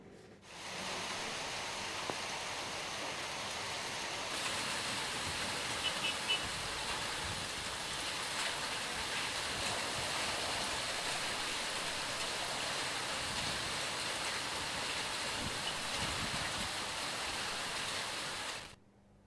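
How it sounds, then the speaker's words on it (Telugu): Heavy night rain pouring over Hyderabad, a dense, steady hiss of rainfall that stays even and unbroken from start to finish, with no voices. "ఇక నాంపల్లి, గోల్కొండ, రాజేంద్ర నగర్ ప్రాంతాల్లో వర్షం తీవ్ర రూపం దాల్చింది"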